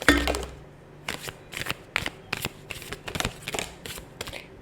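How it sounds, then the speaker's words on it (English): A deck of tarot cards is shuffled by hand, with a soft bumped start followed by a run of quick, crisp riffling bursts at a steady rhythm, close and fairly quiet. "I usually shuffle them for a lot longer"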